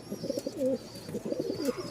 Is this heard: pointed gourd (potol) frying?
no